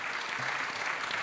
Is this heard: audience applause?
yes